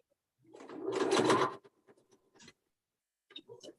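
A sewing machine strains and whirs for about a second as it stalls on a pin, then gives a few faint clicks and knocks in a quiet room.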